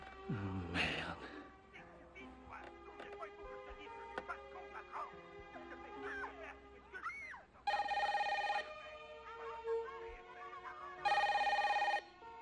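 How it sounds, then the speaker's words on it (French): Telephone bell rings in two loud bursts amid music and other noises, ringing out clearly from a film scene. "Le téléphone!"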